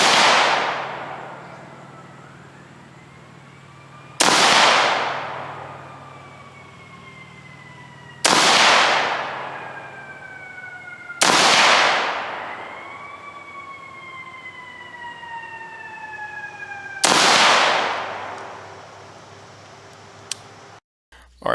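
Five loud, sharp rifle shots are fired in the woods, spaced several seconds apart. Each crack is followed by a long echoing decay, and a wailing siren rises and falls in the distance between the shots.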